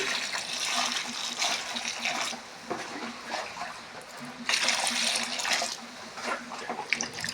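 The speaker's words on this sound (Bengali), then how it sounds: "তার জন্য আমি আম ধুয়ে নিচ্ছি" Mangoes are washed by hand in water for a homemade mango drink, with close splashing and sloshing in uneven bursts and brief quieter pauses between.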